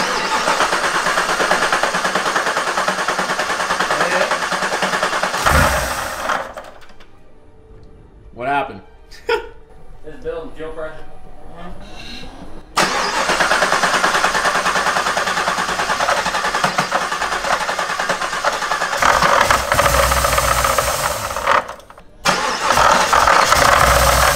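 A Camaro engine fitted with a Whipple supercharger kit cranks repeatedly with a clattering, rattling sound but never catches, broken by a quieter stretch where people talk.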